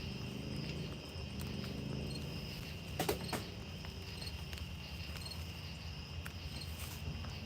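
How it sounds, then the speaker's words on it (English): Crickets chirping outdoors by a river, a faint continuous shrill trill with a few soft knocks, no voices. "There are crickets and all sorts of critters out there."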